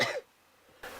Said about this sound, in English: also apologise for my coughing